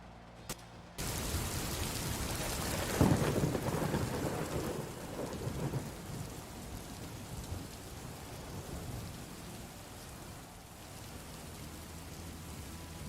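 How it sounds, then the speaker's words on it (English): Steady rain pours as a background bed for a college football video game session, with a rumble of thunder swelling near the start and then fading into continuous hiss, moderately loud throughout. "we got our background rain noise, so you'll hear some thunder"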